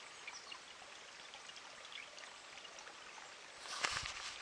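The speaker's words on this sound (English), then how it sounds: "Love this little creek." A small creek at a gold prospecting claim trickles and babbles faintly and steadily, with a slightly louder splash near the end.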